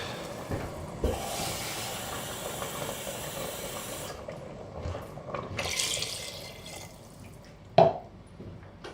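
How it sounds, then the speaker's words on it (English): Water poured into a red-hot pan while making chicken stew hisses and sizzles in two quiet bursts, with faint drips and a small clink near the end. "add some liquid while the pan's still absolutely red hot, because that'll boil up what's stuck on the bottom there"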